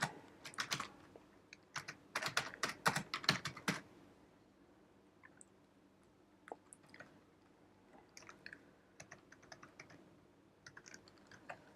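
A computer keyboard clatters as an address is typed into an online application form, with a dense burst of close key taps at first, then sparse, quieter pecks and pauses.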